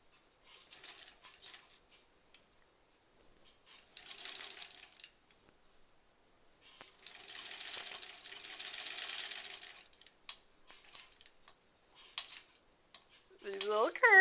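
A sewing machine stitches curved quilt blocks in short bursts of rapid mechanical whirring, with pauses between runs as the fabric is guided slowly around the curves.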